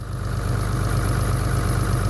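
A Dodge Cummins diesel idles steadily up close with its clutch fan barely spinning, producing a loud, constant low rumble and mechanical drone with no variation.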